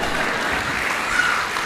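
Clapping during a Jain monk's question-and-answer discourse, a continuous wash of many hands applauding, steady and fairly loud throughout.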